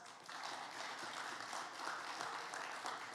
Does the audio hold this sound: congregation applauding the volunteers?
yes